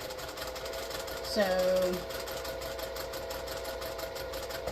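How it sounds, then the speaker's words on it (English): A sewing machine stitches a diagonal seam along a drawn line with a steady low mechanical whir, rising into a brief louder run of stitching midway while a voice talks over it. "you're going to sew right on that line"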